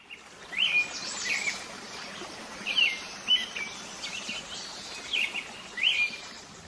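Birds sing in the grounds of an empty high school, with short bright chirps repeating every second or so against a quiet, faintly hissing outdoor background.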